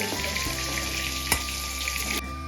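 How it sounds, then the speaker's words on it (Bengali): Cumin seeds drop into hot oil left over from frying fish, giving a loud, steady close sizzle with a single sharp clink partway through, then the hiss thins slightly near the end. "ওই তেলে দিয়ে দিচ্ছি আমি জিরে এবার"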